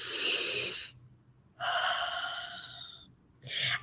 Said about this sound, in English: take a deep breath. Like, deep breathe again.